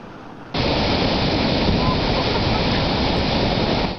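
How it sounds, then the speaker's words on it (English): The Bridal Veil Falls pounds down on the hurricane deck at Niagara in a dense, loud, close roar of crashing water that bursts in after a brief quieter moment and holds steady to the end. "I was on the hurricane deck, feeling the full force of the water falling down"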